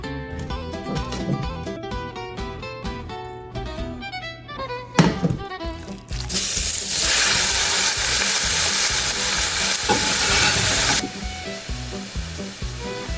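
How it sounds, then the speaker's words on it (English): Chunks of beef hit hot oil in a pan. Clattering and stirring noises come first, then a loud, steady sizzle surges up and holds for several seconds before easing back, close by. "Go ahead and add some oil now to this pan and throw in our beef."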